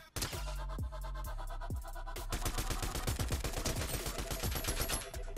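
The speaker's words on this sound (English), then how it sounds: "There's someone shooting across there." Rapid bursts of gunfire in the Fortnite video game, Chapter 5 Season 1, start as a few spaced heavy shots with booming low ends, then build into a dense, continuous rattle of fire that fills the rest of the stretch.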